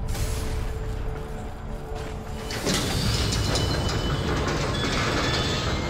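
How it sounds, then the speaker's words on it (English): Transdimensional train in the video game Warframe, a loud continuous rumbling rail roar with mechanical rattling that swells and brightens partway through, with no talk. "A transdimensional train."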